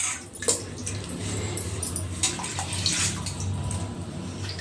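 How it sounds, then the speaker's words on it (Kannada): Cut mushrooms are washed in water in a home kitchen while mushroom sambar is prepared. There is continuous close splashing and trickling water with a low steady hum underneath and a few brief clinks. "ಕಟ್ ಮಾಡಿಕೊಂಡು ಇವೆಲ್ಲ ತೊಳ್ಕೊಳ್ತಾ ಇದ್ದೀವಿ. ನೋಡಿ, ಇವಾಗ ತೊಳೆದಿದ್ದೀನಿ."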